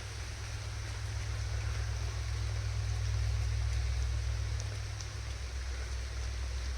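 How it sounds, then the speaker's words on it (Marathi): Light rain falls steadily over a village, a soft, even hiss of drops that continues the whole time with a low rumble beneath and no voices. "हलका हलका पाऊस पडतोय."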